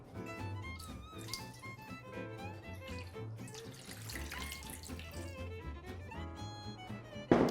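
Water runs steadily into flour and dissolved yeast while bread dough is being made, a continuous splashing pour over background music.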